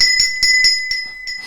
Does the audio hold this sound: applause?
no